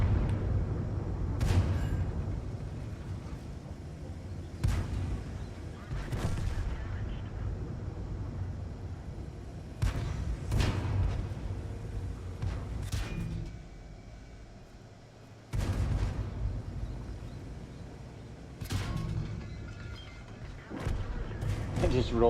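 Tank cannon fire in World of Tanks, a series of heavy booming shots spaced a few seconds apart over a constant engine rumble, with a voice talking between them.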